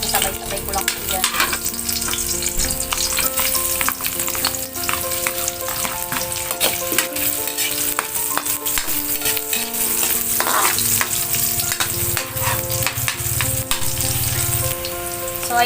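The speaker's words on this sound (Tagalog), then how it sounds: "okay na po yung ating inigisang sibuyas, bawang at luya" Garlic, onion and ginger sizzle hard in a hot pan, with frequent scrapes and clinks of a spatula stirring them, loud and close, no talking.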